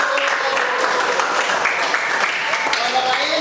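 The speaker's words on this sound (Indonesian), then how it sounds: "Kasih tepuk tangan." Classroom applause for the winning group, a dense, steady patter of many hands clapping at close range with no break for the full stretch.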